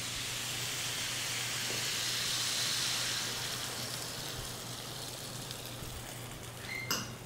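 Frango xadrez sauce mixture boiling in a hot pan, giving a steady steamy hiss that eases slightly toward the end, with a brief clatter near the close.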